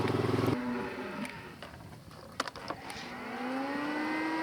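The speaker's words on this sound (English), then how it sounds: "The cattle that are here at South Plain, this mob" Cattle moo close by, one long low call at the start and another rising moo at the end, with faint clicks and knocks between.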